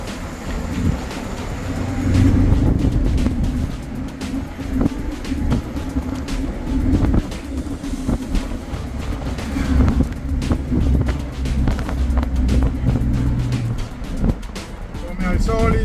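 A 2007 Isuzu Q75 canvas-covered truck slows through its gears, its diesel engine rumbling loud and close with shifting tones and clunks, under wind buffeting while someone talks throughout.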